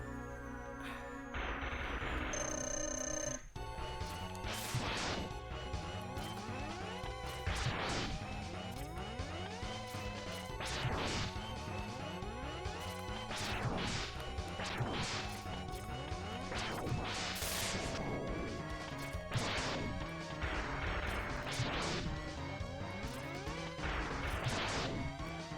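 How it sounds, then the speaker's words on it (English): In the Mega Man X video game, the Storm Tornado weapon repeatedly strikes a boss, producing a run of loud, rhythmic crashing and whooshing hits over steady game music. "shoot him with the storm tornado"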